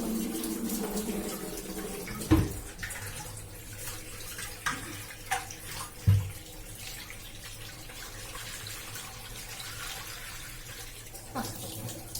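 Water runs steadily from a tap, a continuous splashing wash with a few sharper knocks and clunks scattered throughout.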